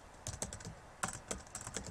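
Typing on a computer keyboard, a quick run of light clicking keystrokes at close range, uneven in rhythm, with no talking.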